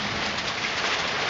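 Dense, steady clatter of hail pelting surfaces during an Indianapolis storm, loud and continuous throughout the short stretch with no voices.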